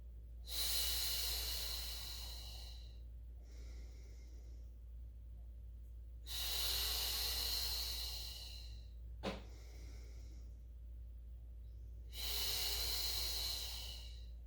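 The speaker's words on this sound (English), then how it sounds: "And inhale to extend. And exhale back." A person doing a Pilates mat class breathes slowly and deeply: three long, loud breaths at steady intervals, each a rush of air, with softer breathing in between and a brief click midway. No one speaks.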